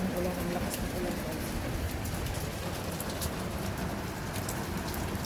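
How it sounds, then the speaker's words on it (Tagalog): Heavy rain pours steadily near a bus stop in Nepal, a dense and even wash of noise with faint bird calls mixed in, close and constant throughout with no talking. "Kasi ang ulan, ang lakas ng ulan."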